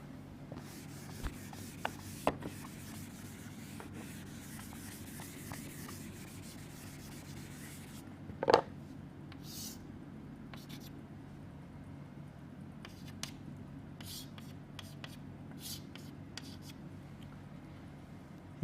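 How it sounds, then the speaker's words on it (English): A marker or chalk rubs and scrapes across a board in short intermittent strokes as a coordinate system is drawn, faint and close over a low room hum, with one sharp tap midway and no talking. "let us draw the coordinate system."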